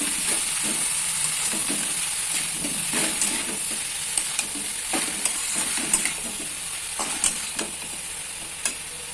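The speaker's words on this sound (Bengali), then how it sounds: "চাল কুমড়ো দেওয়ার পর একটু নাড়াচাড়া করে দেবো ভালোভাবে" Ash gourd stirred in a pan over a cooked spice masala for a hilsa-head ghonto: a steady close sizzle with repeated scraping strokes of the spoon, alone.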